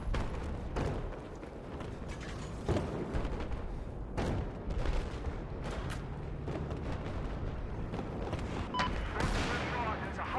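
Gunfire in the video game Battlefield 4, with dense, continuous shooting and sharp bursts over a steady rumble, while players talk throughout.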